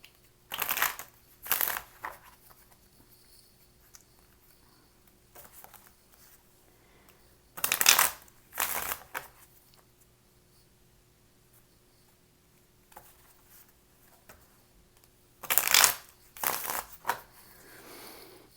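Tarot cards are shuffled in three separate bursts, each a pair of quick, crisp riffling rattles, close and clear against a quiet room.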